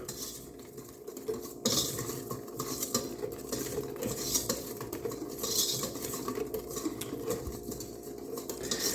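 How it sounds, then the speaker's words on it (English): A utensil stirring and mixing peach snack cake batter in a bowl, with rapid repeated scraping and clinking against the dish, close and continuous. "Then I'm just going to mix all my ingredients together."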